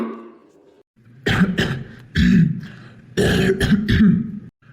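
Three harsh, dry coughing bursts up close, each a rough rasping fit separated by short pauses.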